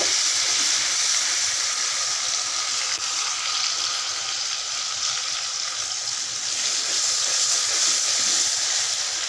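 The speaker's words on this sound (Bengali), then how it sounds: "আমি মশলাটা দিয়ে দিয়েছি মশলাটা নাড়ছি" Spices frying in oil with crushed green chilli paste, giving a steady, loud, close hiss and sizzle that runs unbroken throughout, with faint stirring underneath and no speech.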